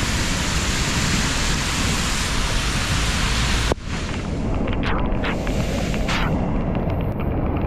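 Dense, steady hiss of heavy rain pouring down close by in Recife, Brazil, with a sudden shift in tone midway and some sharper splashes afterward.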